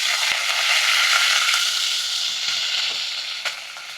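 Steady, bright sizzling of garlic and curry leaves frying in hot oil for mutton curry, continuous and close, with a faint clink or two near the end.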